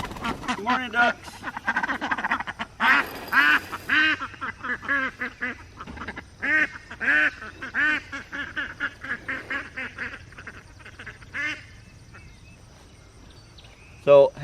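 Homestead ducks quack in steady, overlapping bursts close by on a farm morning, with honking calls mixed in and the flock going quieter toward the end.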